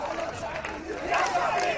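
Protest crowd in Beirut chanting slogans in unison, a loud, rhythmic mass of voices filling a public square, continuous and rising slightly toward the end.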